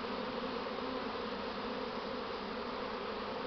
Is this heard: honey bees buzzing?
yes